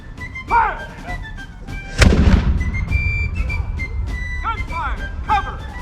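A loud, sharp musket volley booms once and echoes out at the George Wythe House, with people talking and shouting before and after it.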